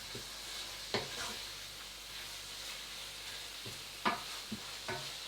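Chicken livers sizzle steadily in a hot frying pan for pâté, a continuous bright hiss broken by a few clattering stirs and pan knocks, close and moderately loud with no talk.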